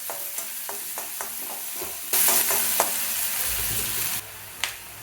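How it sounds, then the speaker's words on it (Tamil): Finely chopped onion frying and being stirred in hot oil in a pan, a steady loud sizzle with scraping stirs and a few clinks, no voices. "ஒரே ஒரு வெங்காயம் பொடியாக கட் பண்ணி வச்சுருக்கு அதை போட்டுட்டு நல்லா வதக்கணும்."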